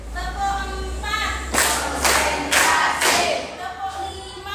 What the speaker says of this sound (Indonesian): Sebelum kita lanjut, kita akan melakukan tepuk-tepuk dulu.